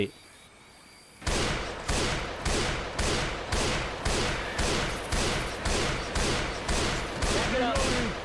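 After a quiet moment, loud gunshots ring out in the video game Left 4 Dead 2 in a steady rhythm, roughly twelve heavy blasts spaced about half a second apart, close and booming.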